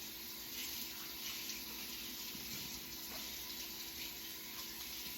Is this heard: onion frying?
no